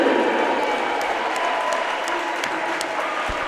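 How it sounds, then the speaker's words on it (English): Arena crowd applause and cheering at a college men's basketball game, welcoming the USF Cougars 2016 NAIA national championship football team onto the court; a steady, dense wash of clapping with faint crowd noise throughout. "please welcome the court with a huge round of applause"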